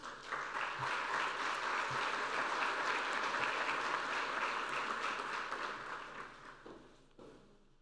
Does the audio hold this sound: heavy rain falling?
no